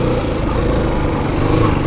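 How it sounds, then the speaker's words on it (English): A motorbike engine revs steadily while ridden in first gear, a loud, continuous buzzing drone with a fast, rough pulse and no pauses throughout. "Now you can hear the engine, it's not nice at all when you hear that, right?"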